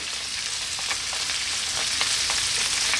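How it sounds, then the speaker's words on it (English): Onions and garlic fry in sausage drippings in a pan, giving a steady, close, bright sizzle with faint stirring ticks throughout and no talk. "let's drop in our onions, that little bit of garlic"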